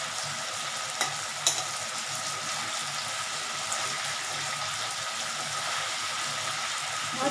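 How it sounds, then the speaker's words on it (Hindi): Fish sizzles in leftover oil with garlic and chili paste for a mustard fish curry, a steady, fairly quiet hiss throughout with a couple of faint clicks from the pan. "जो बचा हुआ ऑयल था, उसी में मैंने फिश को भी डाल दिया वापस से"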